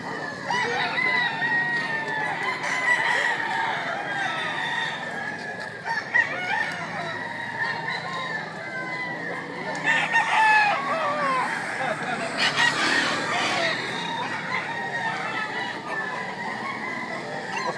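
Roosters crow repeatedly at a gamecock sale in Lipa, Batangas, their calls rising one after another over a steady bed of market bustle and faint voices.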